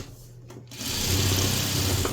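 Sewing machine stitching a quarter-inch seam in quilting fabric, a steady motor whir that starts up after a quiet moment and runs continuously, close and moderately loud, with no talking.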